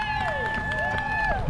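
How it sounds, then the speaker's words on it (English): A roadside crowd cheers and claps for a long-distance runner heading from New York City to Montauk Point, with whistles and shouts layered over continuous applause nearby. "Look at this! What a crowd!"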